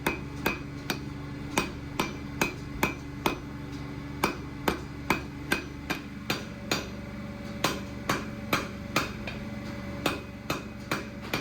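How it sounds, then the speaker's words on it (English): Rapid, evenly spaced heavy blows from a 40-pound Little Giant power hammer forging a steel canister packed with drill bits, ringing sharp and close at about 250 strikes per minute with brief pauses between runs. "Power hammer time. 40-pound little giant, 250 blows per minute."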